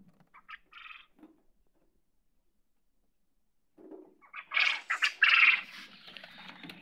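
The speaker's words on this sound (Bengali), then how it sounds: "আর দেখেন কি পরিমাণে ডাকাডাকি করতেছে পাখিগুলো" Caged quail call inside their enclosure: a few short chirps first, then quiet, then a burst of loud, shrill, rapid calls close by.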